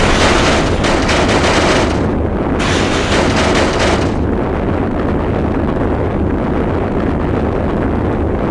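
Launch firing after the countdown in the video game Sonic Adventure 2: a loud, continuous roaring blast that thins slightly partway through and carries on alone.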